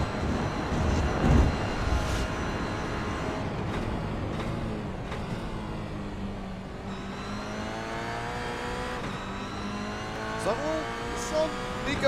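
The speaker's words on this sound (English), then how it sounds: "Watch the hands here as well as listen to the throttle trace." GR86 race car engine at Brands Hatch in a sim racing game, revving and lifting with throttle changes and gear shifts, steady and fairly close, with a voice talking over it.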